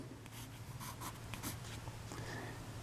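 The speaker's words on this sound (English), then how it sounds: "Then I'll draw the upside down egg." A pencil drawing a shape on paper, heard as faint, close scratchy strokes in short bursts over a low steady background hum.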